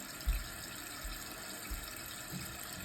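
A toilet tank refills with water after a running-toilet repair, giving a steady, fairly quiet rushing hiss with a few soft low thumps.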